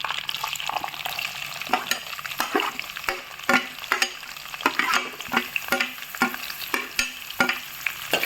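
Onions and chillies frying with boiled potatoes in a pan, with a spatula scraping in repeated, fairly regular stir strokes over a steady close sizzle and no voices.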